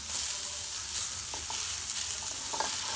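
Cauliflower upma fries in a pan with a dense, continuous sizzle and hiss. Faint scraping comes from stirring, and no one speaks.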